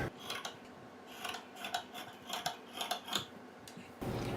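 Scissors cutting fabric for puff sleeves, a series of close crisp snips and rustles in an uneven rhythm, quiet, with no talking.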